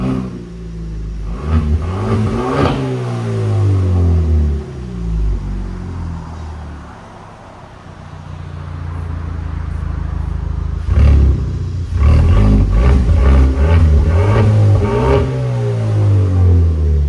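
A Kia Stinger 2.0 turbo engine revs hard in loud, rising bursts nearby, drops to a lower idle for a few seconds, then revs again repeatedly.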